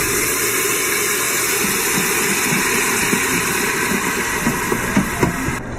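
Liquid hissing and steaming steadily as the hot Instant Pot insert is deglazed after browning rotisserie-style chicken, a dense continuous sizzle with scattered small pops and crackles, close and fairly loud throughout.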